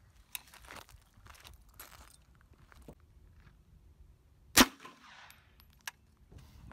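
A .22 round fired from an M&P 15 rifle into two layers of plywood gives a single sharp, loud crack, set among quieter shuffling, clicks and small knocks at close range.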